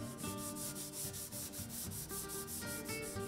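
Wood is sanded by hand at a craftsman's workshop, a close, continuous scratchy rubbing in quick back-and-forth strokes with a steady rhythm and no voices.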